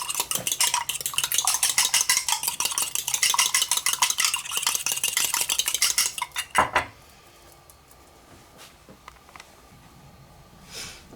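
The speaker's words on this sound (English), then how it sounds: "2 eggs. And a little bit of a beat." Two eggs are beaten with a whisk in a bowl for a Bakewell tart, a fast, rhythmic clatter of metal tines against the bowl lasting several seconds, ending in a few clinks and then near quiet.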